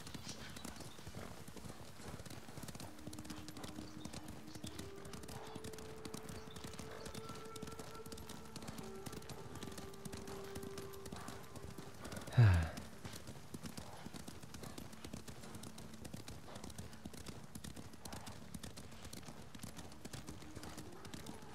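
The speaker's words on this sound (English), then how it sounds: "Come on, horsey. Pick up the pace. Come on. Come on. Run!" Galloping horse hooves in the video game Ghost of Tsushima, a steady rapid clip-clop running throughout at moderate level, with a brief louder thump midway and faint game ambience underneath.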